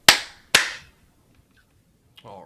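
Two sharp hand claps about half a second apart, loud and close, ring out in a quiet room and are followed by a brief pause before a voice begins speaking.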